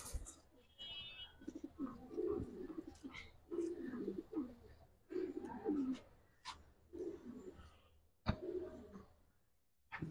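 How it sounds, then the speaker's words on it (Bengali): Pigeons in a loft give repeated low cooing calls in several bursts across the whole span, with short pauses between them and a few sharp knocks and rustles close by. "এই কবুতর গুলো এখন ছেড়ে দিব"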